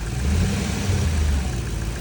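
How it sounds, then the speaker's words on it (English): A car engine with a melted coolant reservoir cap rumbles loudly nearby, its low drone swelling and easing as the revs rise, with no voices. "Get some higher RPMs going."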